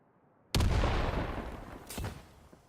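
A grenade explodes in the Blitzkrieg video game as a sudden heavy boom that rumbles and fades, followed by a second, lighter blast about a second and a half later.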